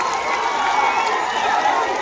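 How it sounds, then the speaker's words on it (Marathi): Dense crowd noise at a huge Dussehra rally at Narayangad, a steady roar of applause and cheering with scattered shouts, loud and continuous throughout. "जोरदार टाळ्या वाजवून"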